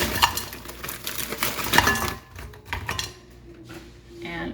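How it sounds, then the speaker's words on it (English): Frozen corn tipped into a cooking pot, a rattling spill of hard kernels against metal with clinks and scraping, close and fairly loud, fading into quieter handling at the end. "here I have got our frozen corn. And I'll just pop it right into my pot."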